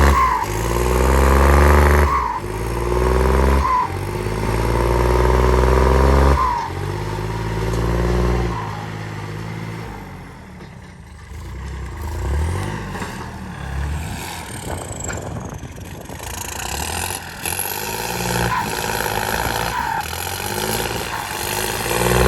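A turbocharged Kubota L4018 tractor engine revs hard in repeated surges for several seconds, then drops to a rougher, lower running sound with wind buffeting; loud and close throughout.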